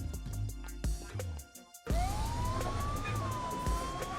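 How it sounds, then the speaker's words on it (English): Police sirens wail on a city street, the rising and falling tone growing closer and louder after a brief pause, over steady traffic noise. "the sirens were closer now, not distant anymore,"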